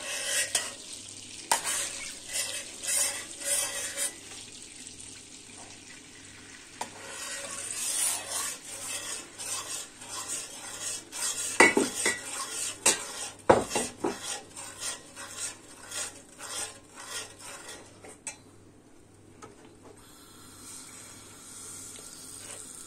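Coarse semolina being stirred and roasted in butter in a pan, a spoon scraping in repeated strokes over a soft, continuous sizzle, close up and fairly quiet, with no talking.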